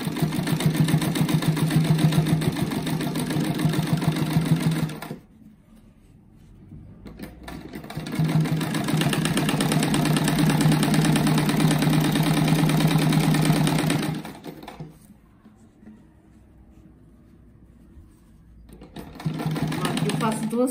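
A sewing machine stitches a fabric rug, running in two long bursts with a loud steady whir, stopping in between and starting up again at the end. Quiet pauses separate the runs.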